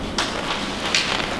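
Rain falls as a steady hiss with a few louder spatter bursts across a short stretch, with nobody speaking.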